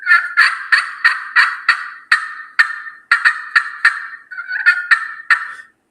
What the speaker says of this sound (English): Another call that's very popular is a slate call,